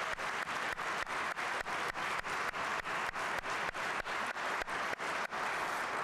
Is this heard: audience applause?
yes